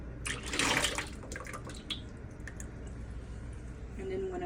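Thick homemade tomato sauce pours into a bowl with a wet, squishy splatter, loudest at first and then dripping and gurgling more softly as the flow eases, with a person talking at times.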